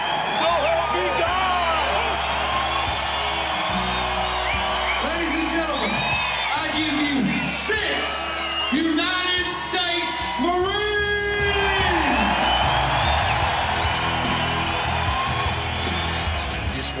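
A crowd roars and whoops after a presidential swearing-in oath, loud and sustained, with shouts and scattered clapping rising over a steady murmur while voices call out throughout.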